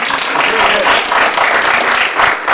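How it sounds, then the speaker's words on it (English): Loud, close round of audience applause after a patent law talk, thick continuous clapping from many people filling the whole short stretch. "Can we have one more round of applause for Stephen?"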